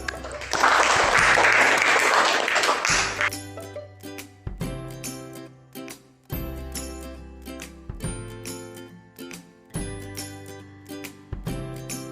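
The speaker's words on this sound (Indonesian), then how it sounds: "Baik, tepuk tangan." Students in a classroom burst into loud applause for about three seconds. Afterward, quieter chiming, music-like tones ring out in a repeating pattern.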